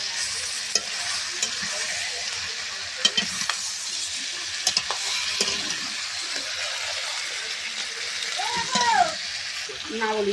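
Country chicken curry fries and is stirred in a pan, a continuous bright sizzle with occasional scraping knocks of the spoon and a brief squeaky scrape near the end, no talk heard.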